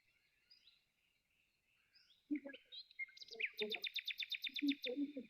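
Birds chirping outdoors during an evening meditation session, faint scattered calls at first, then a closer bird breaking into a rapid, rhythmic run of bright repeated tweets over soft low calls.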